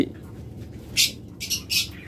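Pet birds sold as top-grade master breeding pairs at a bird market chirp in three short, bright bursts, standing out over a low murmur of background noise.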